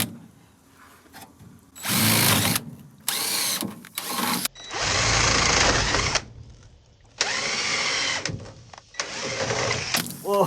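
A power drill bores holes through the muddy steel body of a VW Karmann Ghia under restoration, several loud high-pitched whining bursts of a few seconds each separated by short pauses, close up and with no talk.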